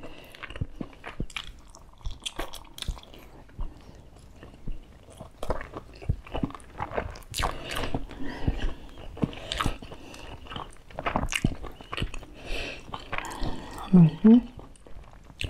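Soft, wet chewing and biting of tender braised pork belly close to the mic, irregular squishy bites with small clicks, mixed with occasional speech between mouthfuls.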